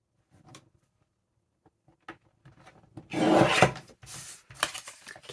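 Paper trimmer slicing through packaging material for a junk journal: faint taps and handling noises, then a loud rasping cut of about a second followed by shorter scraping strokes, close by.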